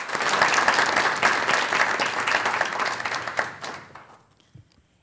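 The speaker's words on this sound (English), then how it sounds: "Let's give them a round of applause." Sustained audience applause at a Women Making History gathering in Orange County, Central Florida, dense and steady for about four seconds before thinning out and fading into near silence.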